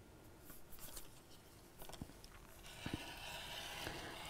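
Pen or marker drawing cutting lines on fabric for sewing, a faint series of short scratchy strokes in a quiet room, followed by a soft, continuous rustle.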